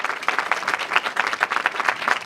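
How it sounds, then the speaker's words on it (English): A town hall audience claps on a rainy evening, a close, lively patter of many hands with distinct individual claps rising and falling through a short burst. "come on, give yourself a clap."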